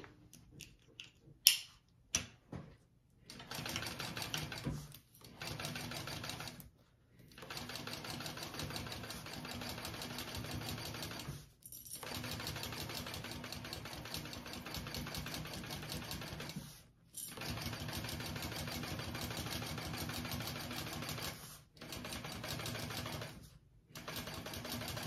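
A sewing machine stitches a bag seam in four long steady runs separated by brief silent pauses, its fast ticking needle rhythm close and even, after a few handling knocks at the start.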